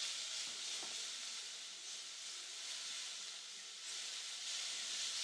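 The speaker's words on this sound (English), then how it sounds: "I'm just going to keep stirring these so that they saute and fry well." Lardons frying in a pan while being stirred, producing a steady, dense sizzling hiss that swells and dips slightly, with no voices.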